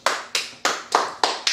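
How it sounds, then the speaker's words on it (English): Classroom clapping during a Yoruba language lesson: six crisp, evenly spaced claps in a steady rhythm, close and distinct, with no voices over them. "Clap for him."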